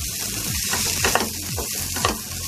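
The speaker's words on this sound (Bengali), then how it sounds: "এটাকে আরও এক দেড় মিনিট মতো ভেজে নেবো আমি টোটালটাকে, মশলাটা যাতে ভাজা ভাজা হয়ে যায়" Fried potatoes with minced meat and peas sizzle in masala for motor keema ghughni, the pan frying steadily with repeated scraping stirs.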